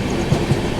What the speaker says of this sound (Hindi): इस वजह से जो हमारी ट्रेन है उसने स्पीड अप करना स्टार्ट कर दिया है।